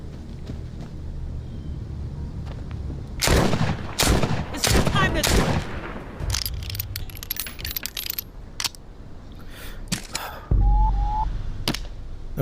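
Several loud shotgun blasts from the video game The Walking Dead: Saints and Sinners, fired in quick bursts with sharp metallic clatter between, over a low game ambience.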